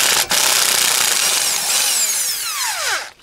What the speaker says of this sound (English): then I take this my electric drill driver, put it in here, and then I insert it